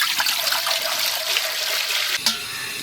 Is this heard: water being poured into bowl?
yes